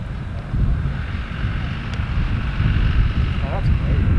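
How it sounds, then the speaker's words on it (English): Steady gusty wind on a golf course rumbles against the microphone throughout, a low continuous roar with a faint voice briefly audible. "This feels pretty windy to me."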